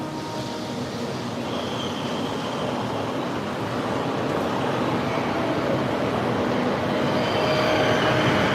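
Small amusement park train ride rolling along its rails at an indoor theme park, a steady close rumble with faint wheel squeal and light clatter throughout, no talking.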